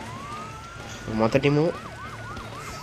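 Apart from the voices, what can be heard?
fire engine and ambulance sirens in video game Emergency HQ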